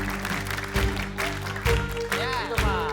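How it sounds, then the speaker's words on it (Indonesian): A studio audience at a game show breaks into applause in several bursts of clapping, layered over bright sustained music tones and sliding sound effects. "Tepuk tangan yuk."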